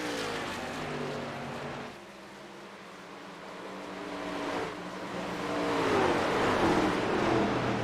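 Race cars circle an oval track, engines droning at a distance, one fading then another swelling closer and louder toward the end with a rising, sweeping pitch.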